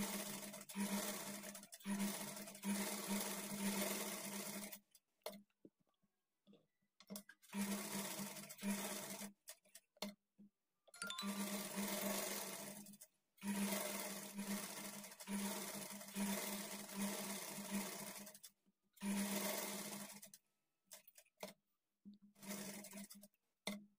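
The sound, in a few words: sewing machine stitching blouse lining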